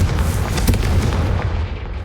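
An explosion from the Confringo blasting spell in the Hogwarts Legacy video game hits as a loud, booming blast, its deep rumble fading out over two seconds.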